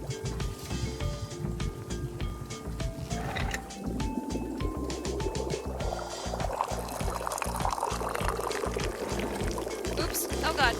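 Tea streams into a cup via a rope-pulled pourer in the video game Wanderstop, a continuous liquid pour lasting several seconds beneath a talking voice and background music.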